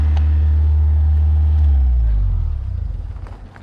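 A car engine holds a stuck high idle from a sticking throttle cable, a loud steady low rumble that drops off and turns rougher toward the end.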